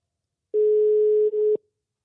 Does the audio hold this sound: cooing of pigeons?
no